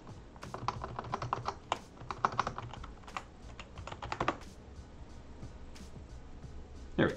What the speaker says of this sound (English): we can now type in the password.